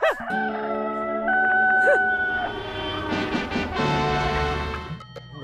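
A person imitates a rooster's crow in a long, drawn-out warble, loud and close, followed by some background noise and rustling.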